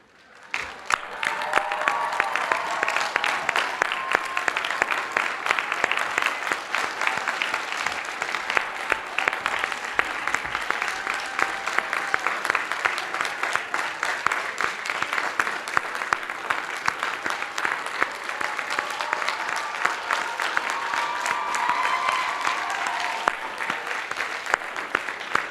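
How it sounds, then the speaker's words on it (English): A large audience applauds graduating MA candidates at a university commencement ceremony, sustained dense clapping with faint cheers, steady and full throughout. "Will the candidates stand so we may give them a final round of applause?"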